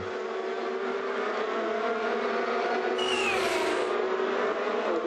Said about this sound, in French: On revoit le dépassement de Leimer sur Puglisi.